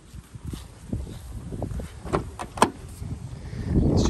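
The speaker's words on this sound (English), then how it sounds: "I'll put the hood up for you guys" Power hood of a grey 2008 Jaguar XK8 4.0 V8 convertible being raised, a series of mechanical clicks, clunks and whirring motor strain building over a few seconds, close by and fairly quiet with no talk.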